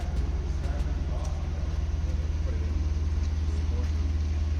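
A 2024 Lexus IS500 with a 5-liter V8 rumbles steadily and deeply up close, a dense low throb that holds without clear rises or drops across the whole stretch.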